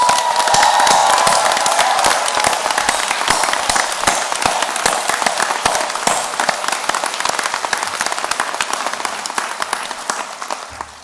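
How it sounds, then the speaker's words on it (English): A graduation ceremony crowd at Ulster University's Magee campus in Derry/Londonderry breaks into loud, sustained applause with some cheering, a dense wash of clapping that holds for several seconds and fades slightly at the end. "I'm going to go off script and just give you a round of applause"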